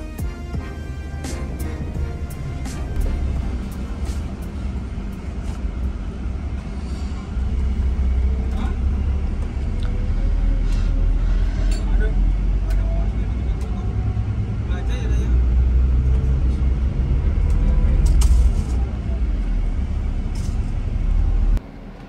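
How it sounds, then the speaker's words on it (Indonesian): Interior of a PO Ranajaya Scania bus on the road, a deep continuous rumble with road noise that swells partway through, with people talking over it. "bis udah berangkat dari terminal Karangkates"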